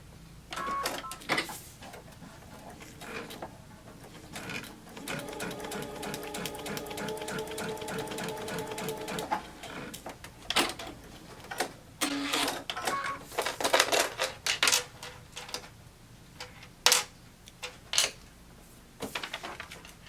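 A sewing machine stitches fabric for a triangle cabin quilt block, running in a steady mechanical whir for several seconds, then stopping and restarting in short clattering bursts.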